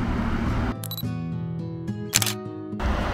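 A Nikon Z6 camera fires its shutter outdoors while photographing early-blooming cherry blossoms, giving a couple of crisp clicks over a steady background hum, with no talk.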